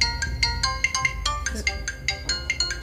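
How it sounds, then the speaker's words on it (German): A mobile phone rings with a repeating melodic ringtone of bright tonal pulses at steady volume in an indoor clinic setting, close by and continuous. "Da geht Ihr Handy."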